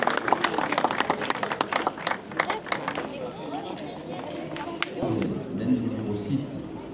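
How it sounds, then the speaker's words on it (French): Pétanque spectators clap for the semi-final teams at an outdoor national tournament, with dense applause strongest over the first few seconds, then thinning into crowd murmur and scattered voices. "Et amis spectateurs, on va les applaudir, les encourager"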